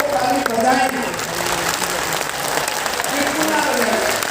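Audience at an academy program clapping loudly and continuously, a dense wash of applause with a voice speaking over it.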